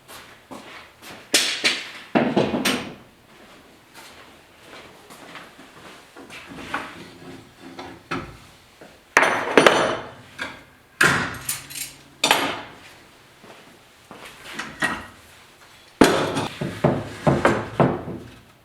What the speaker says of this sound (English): so we can take the clamps off.